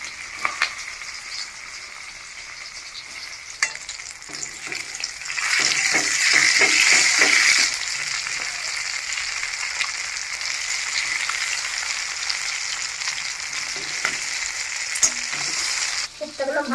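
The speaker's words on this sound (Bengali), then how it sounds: "এখন আমি মাছের কোপ্তাগুলো ভাজে নেব" Fish kofta balls made from rui fish frying in hot oil in a karahi, a steady dense sizzle throughout with bursts of louder bubbling and occasional stirring scrapes.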